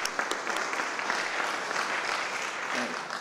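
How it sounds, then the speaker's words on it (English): A crowd at a Memorial Day ceremony at the Brockton War Memorial Building gives a steady, sustained round of applause, with a voice faintly emerging near the end. "Can we have another round of applause for this young lady?"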